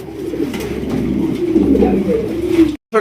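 Pigeons, including king pigeons, coo in low, throaty, overlapping murmurs close by, a continuous warbling chorus that cuts off abruptly near the end.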